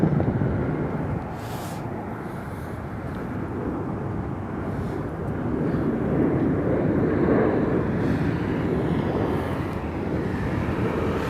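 United Airlines airliner at Harry Reid International Airport in Las Vegas, a loud sustained jet roar swelling and holding steady, mixed with gusty wind buffeting the microphone.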